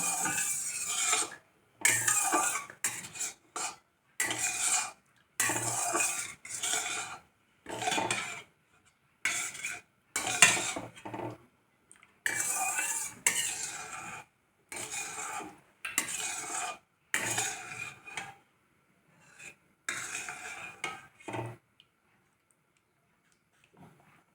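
Semolina being stirred as it cooks in milk in a pan for a Satyanarayana puja prasadam, a spoon scraping the pan in steady bursts with short pauses throughout, close and fairly loud with no talk.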